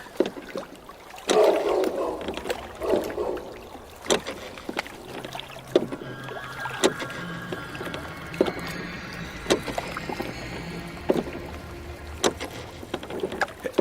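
Oars splash and knock as a rowboat is rowed through fog, giving irregular dips and clunks over faint water and ambient noise, fairly close, with no voices.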